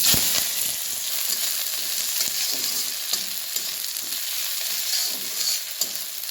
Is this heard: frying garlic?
yes